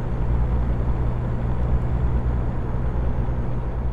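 A low, steady truck engine drones throughout in American Truck Simulator, a constant heavy rumble with no change in pace and no voices.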